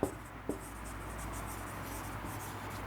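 Chalk or marker writing on a classroom board during a physics lesson, with two sharp taps at the start followed by a faint continuous scratching in a quiet room.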